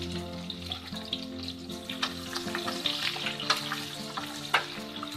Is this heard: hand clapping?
no